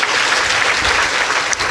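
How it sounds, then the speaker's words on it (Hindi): Dense applause from a crowd at a live Devi Bhagwat Katha religious gathering, steady and loud throughout the short burst. "तालियों से स्वागत करिए"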